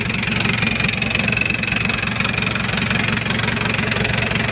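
An Isuzu 4JA1 direct-injection diesel engine from an Isuzu Hi-Lander idles with no blow-by, a steady, rapid knocking clatter and low rumble, loud and close, keeping an even rhythm throughout with no voices.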